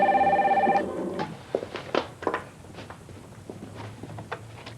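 An old telephone bell rings in one short burst at the start and then stops, followed by a few scattered handling knocks and footstep-like taps close by.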